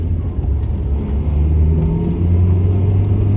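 A home-built 25-year-old Honda Civic with a single-cam D-series engine drives along, its steady low engine drone and road rumble rising slightly as it pulls away, close and continuous with no talking.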